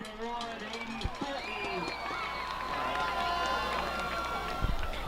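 Crowd at a high school football game between Paxton-Buckley-Loda and IVC roars steadily after a long run for a first down, a broad sustained cheer with scattered shouts and a couple of sharp thumps, voices mixed throughout.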